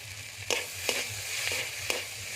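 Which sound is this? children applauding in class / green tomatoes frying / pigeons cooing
green tomatoes frying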